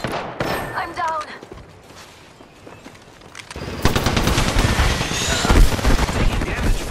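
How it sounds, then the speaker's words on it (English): Automatic gunfire in the battle royale game Apex Legends: quieter scattered shots, then a loud, sustained stream of rapid bursts and impacts, with a voice talking at times. "They're shooting at me."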